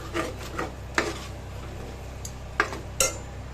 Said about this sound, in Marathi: आता याच्यात मी मटण टाकून चांगलं परतवून घेते।